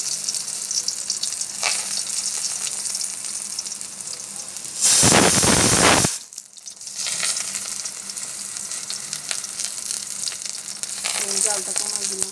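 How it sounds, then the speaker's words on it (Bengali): Fish fritters wrapped in taro leaves frying in a little oil in a wok, a steady crackling sizzle with a sudden loud burst of spitting for about a second before settling back to even frying. "এবার এটাকে ভেজে নিতে হবে"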